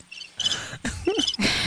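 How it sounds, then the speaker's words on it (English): Crickets chirp in bursts, loud and near, pulsing on and off with brief pauses in between. "The crickets are still going."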